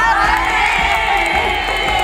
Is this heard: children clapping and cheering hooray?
yes